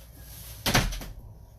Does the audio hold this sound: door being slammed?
yes